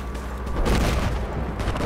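Gunfire in the multiplayer shooter Battlefield 4, a couple of heavy booming shots with rumbling tails over busy game noise, fairly close.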